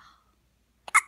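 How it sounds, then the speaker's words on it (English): One sharp, close hiccup from a newborn baby, preceded by a soft little squeak or breath, then quiet. "We got some hiccups."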